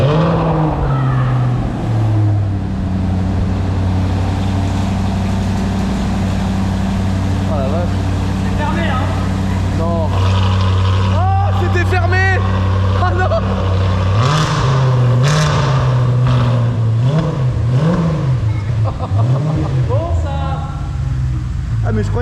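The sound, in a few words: Audi RS5 V8 engine started and revving with Evox exhaust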